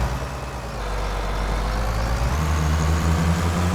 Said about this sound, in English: Truck's got a little bit of power.